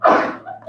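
A single sneeze bursts out in a lecture hall, loud and close, with a sharp onset that trails off into a brief breathy tail.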